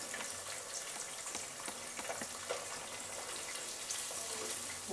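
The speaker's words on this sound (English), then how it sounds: "and now we're frying them." Fish coated in mustard-beer batter and cornmeal fry in hot oil, a steady soft sizzle and crackle throughout, faint and continuous with no talking.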